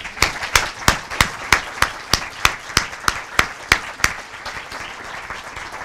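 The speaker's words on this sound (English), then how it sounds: "Let's give him a warm round of applause." Applause at a school committee meeting, heard as a steady series of about a dozen sharp, evenly spaced claps over a light background of scattered clapping, fairly close and loud.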